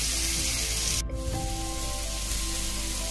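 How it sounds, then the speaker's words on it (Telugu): Marinated chicken kalmi kabab sizzles on an oiled grill over a medium flame, a steady close crackling hiss throughout with no talk. "దీని మీద మ్యారినేట్ చేసి పెట్టుకున్న చికెన్ని పెట్టుకొని గ్రిల్ చేసుకోవాలి."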